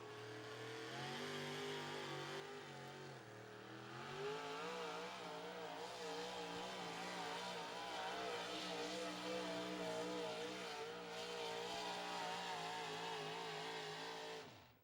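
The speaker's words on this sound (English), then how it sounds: "you heard him backpedal that truck. He come off the throttle after he initially took off." A modified 4x4 pulling truck at an outlaw truck-pull event in Rock Valley, Iowa, its engine roaring loudly and steadily with shifting revs as the throttle rises and eases over about fifteen seconds, no speech.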